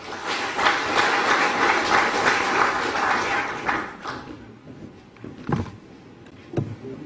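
An audience at a rice policy forum held at the National Assembly gives a round of applause that stays full for about four seconds, then thins into scattered claps, shuffles and thumps as the room settles.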